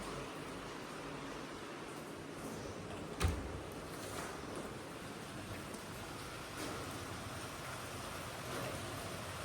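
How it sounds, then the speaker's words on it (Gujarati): Steady rain falling outside makes an even, continuous hiss, with one sharp knock partway through and no speech. "વરસાદ પણ અત્યારે ચાલુ હા"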